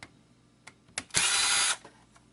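A power screwdriver removes screws from an original Xbox, a few faint clicks and taps, then a single loud, steady whir lasting about half a second that stops abruptly, close by and alone.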